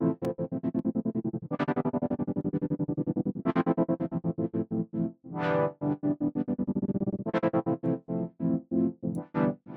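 A house synth with a tremolo effect plays loud distorted chords while its volume pulses rhythmically, dipping fully to silence between beats, with no talking.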